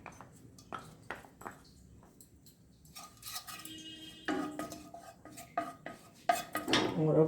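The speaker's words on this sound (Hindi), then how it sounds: "और अब हम इसमें ये मूंगफली भूनेंगे।" Peanuts roasting in desi ghee in a hot pan, rattling and clinking against the metal as they are stirred. Irregular bursts of clatter grow louder and busier toward the end.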